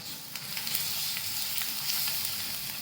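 Ground spices, including turmeric, black masala and coriander powder, stirred into hot oil in a pan for a tempering, giving a steady broadband sizzle with faint scraping under it, continuous and close.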